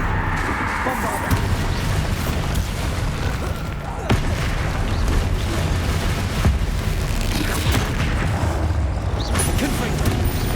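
Bombarda blast spell in Hogwarts Legacy on PS5, booming explosive impacts landing amid continuous loud combat noise, with a voice talking over the action.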